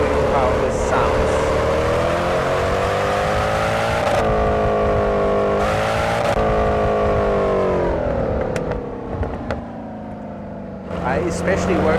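Outside view of a Mercedes C63 engine sound mod in Assetto Corsa, a loud V8 revving through rising and falling pitch with sharp gearshift breaks, easing off briefly before climbing again.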